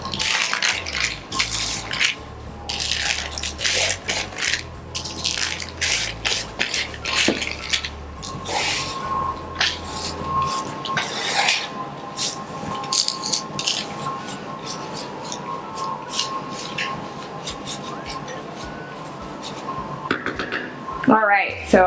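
Metal pans of granola being handled and turned around in a kitchen, with clanks, scrapes and rattles spread over a long stretch under steady talking, close and fairly loud.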